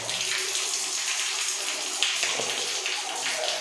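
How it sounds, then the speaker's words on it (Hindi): Water draining out of an opened cold-water pipe at a bathroom wall mixer, a continuous close splashing and trickling with a few sharper drips and spatters, no talking. "थोड़ा सा पानी खाली हो जाएगा,"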